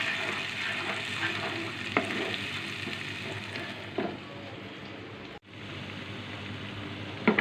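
A paste of tomato, ginger, chopped onion and chili fries in hot oil with a constant dense sizzle while a spoon stirs and scrapes the pan, close and steady with a brief break partway through.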